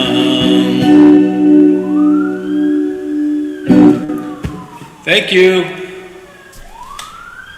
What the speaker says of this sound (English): Ooh, and the siren came in.